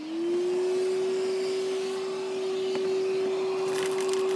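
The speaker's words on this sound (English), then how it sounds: "I got to suck some acorn shells out from under my intake manifold, or under my coolant crossover pipe there." A shop vacuum runs steadily with a constant drone, sucking acorn shells out from under the intake manifold and coolant crossover pipe of a 2014 Subaru Forester, with faint rattles of debris near the end.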